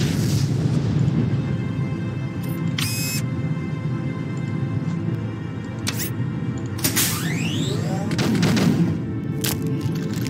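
Broadside cannon fire from sailing ships in the Treasure Planet: Battle at Procyon space-naval game: dull booms and scattered blasts over a steady low battle rumble, with brief whooshing and sweeping effects layered on top.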